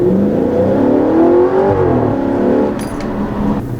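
A 2013 Audi RS5 in dynamic mode accelerates hard from inside the cabin, its engine note climbing steadily in a loud rising whir before easing off.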